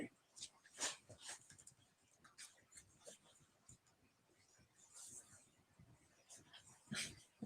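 Puppy whimpering and whining indoors in soft, high yips and breathy whines that come and go in short bursts, fairly faint, with a person talking quietly nearby.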